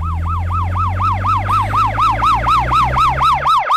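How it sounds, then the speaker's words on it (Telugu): Loud wailing ambulance siren sweeping up and down in fast, regular cycles, close by, with a low engine rumble underneath and no voices. "అదిగో అంబులెన్స్ వస్తాం, జాగ్రత్తగా అందరినీ అందులో ఎక్కిద్దాం"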